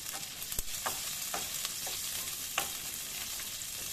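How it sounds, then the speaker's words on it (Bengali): Diced onions frying in hot oil with garlic in a pan, a bright continuous sizzle with a few crisp clicks of a spoon stirring through them, close and clear. "পেঁয়াজটা একটু হালকা ভেজে নেব।"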